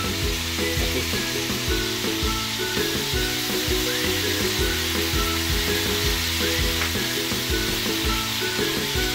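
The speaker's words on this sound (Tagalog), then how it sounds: "Gisahin muna natin para mas maganda, mas lasap na lasap ang lasa nito mga idol" Food sautéing in a hot pan for a mung bean dish with dried fish, a loud continuous sizzle and crackle with rhythmic scraping and stirring strokes throughout.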